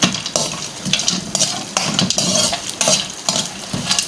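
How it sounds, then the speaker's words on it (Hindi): Edible gum (gond) frying in a pan for panjiri, a close, steady sizzle broken by repeated scraping strokes of a metal spoon stirring against the pan. "गोंद को फ्राई करना जब तक ये फूलेगा अच्छी तरह"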